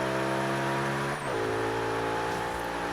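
A loud racing car engine drones steadily on a snowy mountain road in Forza Horizon 3, its pitch dipping briefly mid-way as it shifts gear while overtaking another car, with no talking.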